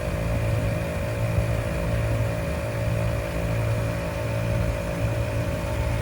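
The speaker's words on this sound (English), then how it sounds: "We'll just air this up in real time to about 15 psi to show you how quick that pump is." A portable air pump inflates to about 15 psi outdoors in the cold, giving a steady, close mechanical drone with a faint regular pulsing throughout.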